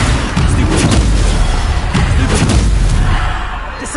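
The Descendo spell lands in Hogwarts Legacy with a heavy, booming slam, loud and close, followed by a rumbling tail over the game's noise.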